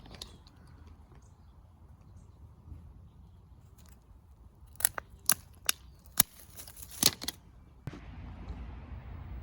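Pruning shears cutting a rose cane: a handful of sharp crisp snips clustered together, close but fairly quiet over a soft outdoor background, no talk.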